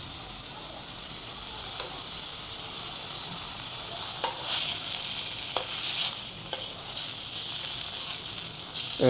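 Salmon fries in a hot pot with a steady, hissing sizzle, broken now and then by sharp crackles and pops, heard up close with no talking.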